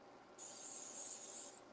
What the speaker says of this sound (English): but let's just spray it lightly